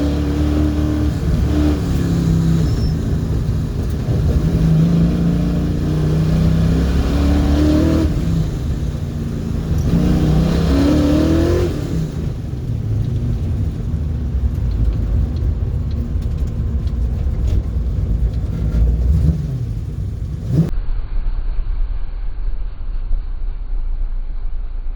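A Mustang drag race car at an NMCA Classic Muscle event roars steadily down the track, a loud continuous engine rumble that fades after about twenty seconds, leaving quieter background noise.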